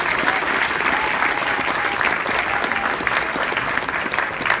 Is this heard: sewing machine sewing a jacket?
no